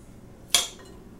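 Bowl set aside on a countertop after making a crock pot peach crumble, a single sharp clinking knock of dish contact close by, with a short ringing tail and otherwise quiet surroundings.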